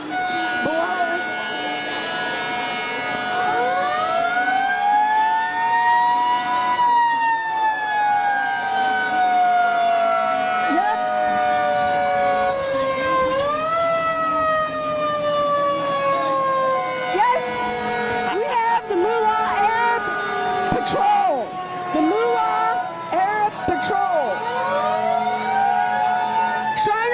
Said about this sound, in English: Moolah fire truck. The horn doesn't sound quite the way it used to